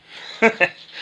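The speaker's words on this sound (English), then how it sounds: "It's just my dogs, they're playing." Two short dog barks or yelps from dogs playing indoors, the second close after the first, rising over a low background of room noise and faint talk.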